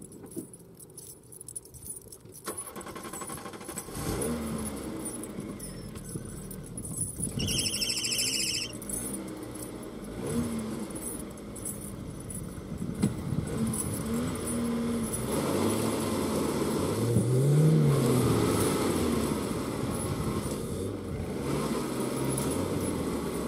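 A car engine revs and strains while reversing on a slippery rural field track, with jangling keys near the start and a rising, wavering engine drone building steadily through the clip.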